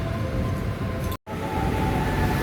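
A KRL commuter train from Bogor rumbles past toward the city, a steady close, loud rolling roar with a brief dropout midway before the noise resumes.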